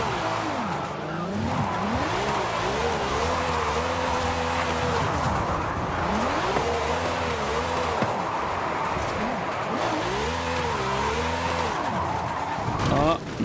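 A Ferrari drifting in Forza Horizon 5, engine revving in rising and falling sweeps with long tire squeals through each slide, loud and continuous, with talking over it.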